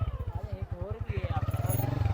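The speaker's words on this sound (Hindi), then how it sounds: "वो इधर दूर ट्रैक्टर चल रहा है, उस पर लगे हुए गाने।" A distant tractor with songs playing on it, heard as a rhythmic, chugging low engine throb beneath a person talking close by.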